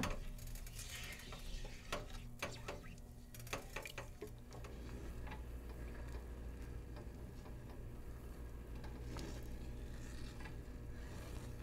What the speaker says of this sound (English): Now just simmer that for a few minutes while stirring it, just to thicken it